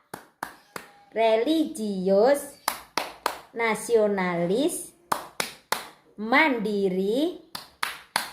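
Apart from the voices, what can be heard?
rhythmic hand clapping in the Tepuk PPK clapping chant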